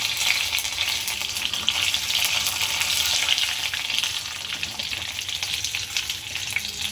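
Food fries in hot oil as it puffs up, giving a steady, dense sizzle with crackling bubbles throughout, close and loud with no talk.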